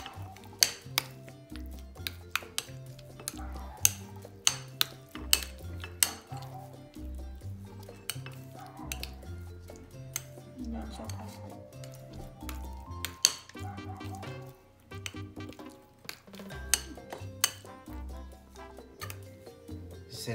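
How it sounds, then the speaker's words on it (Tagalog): A utensil stirs an ube pandesal mixture in a bowl or pot until it thickens, giving repeated clinks and scrapes in a steady rhythm against low background noise. "haluin lang po natin hanggang lumapot"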